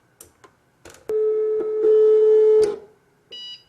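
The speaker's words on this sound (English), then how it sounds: "I'm going to go ahead and turn the machine on, and you'll notice that the carriage will then go to the side of the machine." A cake decorating machine switches on with a click, then its carriage motor whirs steadily for about a second and a half as it travels to the side, followed by a short pair of electronic beeps.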